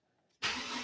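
A GMC Sonoma truck engine cranks and fires, jumping abruptly from near silence into a loud, steady running roar that holds to the end.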